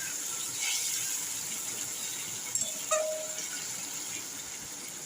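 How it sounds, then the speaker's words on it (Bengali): A little water poured into a pan of fried small fish in spicy curry, heard as a steady watery gush and hiss with a brief clink partway through, no talking. "স্লাইট একটু, অল্প একটু জল দেবো, একটু মাখা মাখা হবে"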